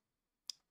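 A single faint, sharp computer mouse click, isolated against near silence.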